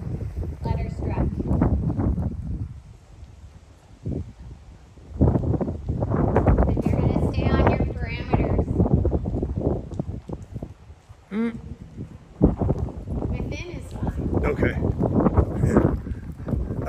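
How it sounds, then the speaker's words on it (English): Gusts of wind buffet the microphone with heavy low rumbling, rising and falling throughout while people talk intermittently. "It's a windy day."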